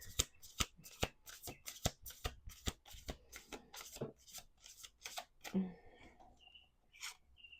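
A rapid series of crisp card riffles and snaps, a dozen or so quick bursts, followed by faint rustling and a few small clicks near the mic.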